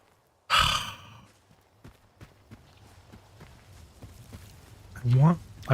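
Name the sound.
mutant pig grunting, from video game S.T.A.L.K.E.R. 2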